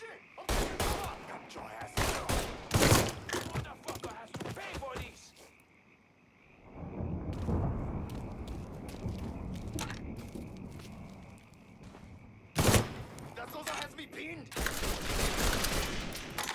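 Shotgun fire and chaotic gunfights fill a scene in the Mafia III video game, with dense bursts of blasts, a quieter lull, then a sudden loud shot and renewed firing up close.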